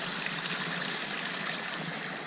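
A forest stream flows steadily with a dense, even rush of water, close by and continuous, with no voices.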